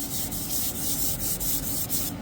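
Close-up hand sanding of clear coat on drawer boxes with 400-grit sandpaper, a steady rhythmic scratchy rubbing with regular back-and-forth strokes, fine-grit and fairly loud, no voices.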